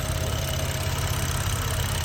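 A BMW 435i convertible's engine idles with a steady, low hum and even rumble, constant and close, with no voices over it.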